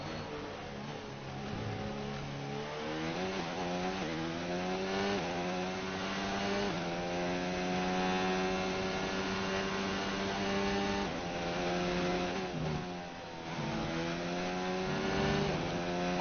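F1 2019 race car engine screaming through a lap, high-revving and continuous with rising pitch sweeps through gear changes and brief lifts, steady and prominent with no talk.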